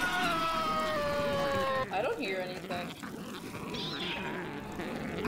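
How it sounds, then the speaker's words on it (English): A Half-Life zombie lets out a drawn, rising-and-falling yowl like a rabid cat, then breaks into shorter strained cries and snarls against a dense, noisy game soundscape. "Why does that zombie sound like a rabid cat?"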